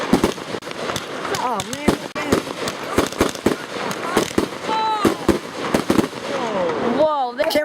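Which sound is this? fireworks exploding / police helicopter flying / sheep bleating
fireworks exploding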